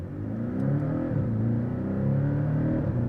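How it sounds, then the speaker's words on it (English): The turbocharged four-cylinder engine of a Porsche Cayman S revs steadily from inside the car, giving a droning, rising engine note with a faint whistle on top. It is moderately loud and fairly even for a few seconds, with no talk. "You get that really nice high-pitched whistle from the turbo whenever you get into the higher RPMs"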